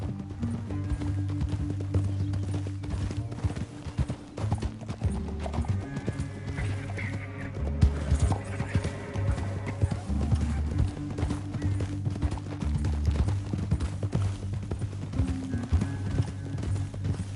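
Horse hooves gallop in a steady rapid clatter throughout in the video game Red Dead Redemption 2, with rumbling background music and scattered effects, a horse whinnying briefly along the way.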